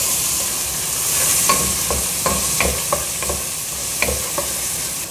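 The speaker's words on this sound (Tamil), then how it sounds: "அது ரெண்டையும் போட்டு கொஞ்சம் வதக்கிடலாம்." Onion and garlic sautéing in a pan for a vegetable pasta, a steady close sizzle broken by repeated clinks and scrapes of a spoon stirring, with no talking.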